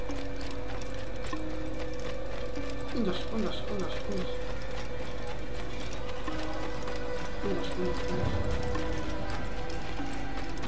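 A horse's hooves clip-clop in a steady trotting rhythm in the Assassin's Creed video game. The hoofbeats sit under a constant dense game soundscape with mechanical clatter.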